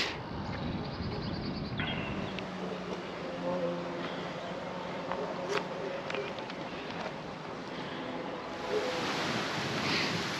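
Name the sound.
wind blowing on a hillside in Sicily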